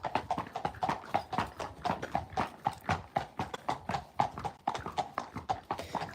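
Hooves of a Friesian horse clip-clopping in a steady, brisk walking rhythm, close and fairly quiet, with a second horse heard faintly behind.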